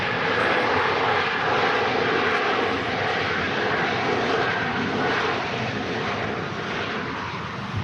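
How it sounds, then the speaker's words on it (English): A Ryanair Boeing 737-800 touches down at Manchester Airport on a windy day, a loud, continuous broadband roar of jet engines and rushing air that stays steady throughout. "Now Ryanair just touching down from Budapest. It left 2 hours 25 minutes ago. 737-800."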